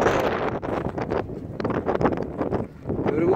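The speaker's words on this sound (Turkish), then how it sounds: "Demek ki rüzgar çok kötü." Strong, cold gusty wind on a snowy highland plateau at Kızılcakoru, Vezirköprü, Samsun, Turkey, buffets the microphone in loud, roaring bursts, steady throughout with no clear voices.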